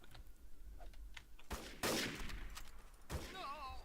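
Gunfire in the online shooter game Trouble in Terrorist Town, bursts of shots and a loud volley mixed with game noise and faint chatter.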